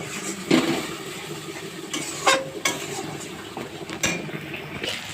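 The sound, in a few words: spice paste sizzling while being sautéed in a pan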